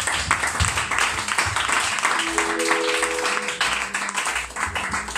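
A church congregation at a worship service applauds and cheers in acclaim of Jesus, with broad steady clapping and crowd noise throughout, a few sustained sung or shouted voice tones rising briefly in the middle.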